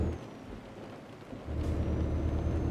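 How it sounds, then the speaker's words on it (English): Rain falls in the truck-driving game Euro Truck Simulator 2, a steady hiss of rain with a deep rumbling that swells louder partway through, heard without talk. "I guess nobody's out driving in this rain."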